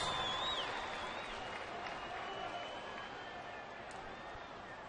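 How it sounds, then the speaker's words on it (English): A baseball stadium crowd gives a derisive round of applause late in the ninth inning as the visiting Rays score, a broad steady wash of clapping and crowd noise at moderate distance, easing slightly toward the end. "The obligatory derisive round of applause."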